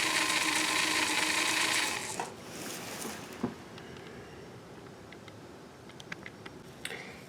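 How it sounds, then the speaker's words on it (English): A sewing machine driven by a custom bolt-on motor runs with a soft whirring hum, then slows to a quiet low-speed purr with light mechanical ticks and clicks, heard up close. "So I'll just use the foot controller to show you. So it's very quiet there"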